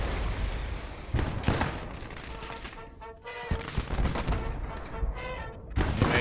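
Autocannon fire pounding a T-34 tank on a Gates of Hell battlefield, Eastern Front: bursts of sharp cracking shots at the start, middle and end over a steady rumbling din, with distant gunfire in between.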